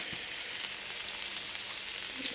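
Diced onion, green scallions and red pepper fry in a pan for a puffball mushroom stir-fry, giving a steady, fairly faint hiss of sizzling with no voices.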